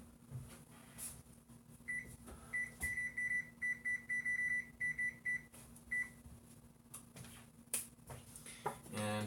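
An oven control panel beeps as it is set to preheat to 425 degrees for a pot pie, giving a run of about a dozen short, evenly spaced electronic tones in a kitchen, with a steady hum underneath.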